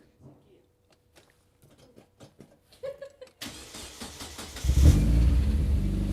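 Faint scattered clicks and knocks lead into a stock 1.8-litre Mazda BP four-cylinder of about 140 horsepower firing up, then revving louder and settling into a strong, close running note.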